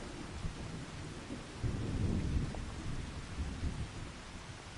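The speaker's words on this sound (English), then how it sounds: "Everything's just sitting in the rain." Steady rain pours down with a deep, rolling rumble of thunder swelling in the middle, a stormy weather scene from the farming game Farming Simulator 25, with no talking.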